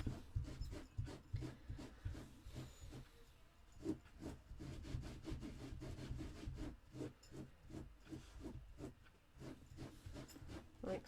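Scissors or a trimmer cut through card stock for a handmade Christmas card, giving a steady run of close, rasping strokes that repeat in a quick rhythm for the whole stretch, with no talk.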